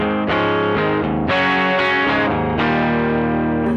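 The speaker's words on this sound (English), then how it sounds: "clean, it sounds like this with the humbucker." Electric guitar played on a humbucker pickup through a Nux Plexi Crunch overdrive pedal into the clean channel of a Koch Studio Tone 20 amp: loud, crunchy distorted chords struck about four times, each left to ring out, with no talking.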